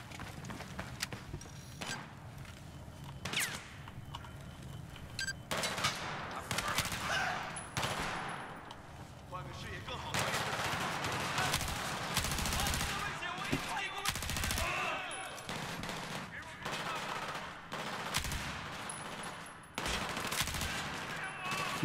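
Bursts of automatic gunfire and rattling volleys crackle through a Battlefield 4 firefight on the Kunlun Mountains map, coming in repeated clusters of varying loudness over a busy game background with occasional voices.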